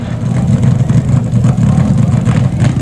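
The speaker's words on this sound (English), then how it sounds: "I can't compete with that burnout" An early drag racing funny car does a burnout, a loud, close, sustained engine roar with a heavy low rumble and rough pulsing throughout.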